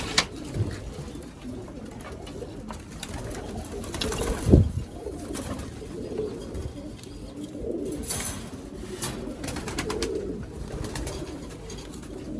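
Pigeons in a loft coo in low, throaty rolls throughout, overlapping calls near and farther off, with occasional wing flutters and a brief louder flap partway through.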